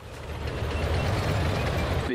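A cannon on the move in the World War II strategy game Sudden Strike 4, at the Battle of Kursk: a steady, dense mechanical rumble with rattling and clanking that holds fairly loud for about two seconds.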